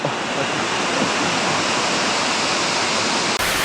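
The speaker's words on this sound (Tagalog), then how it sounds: "Ang lakas ng agos ah, ng tubig." Tamaraw Falls in Mindoro pours with a strong, steady roar of rushing water, loud and close, a continuous broadband wash with no talk over it.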